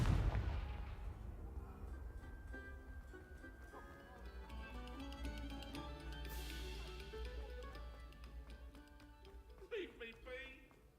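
Spell blasts and fiery explosions from casting Confringo in the video game Hogwarts Legacy, a series of booming bursts with crackling impacts layered over orchestral game music, with characters' voices calling out around them.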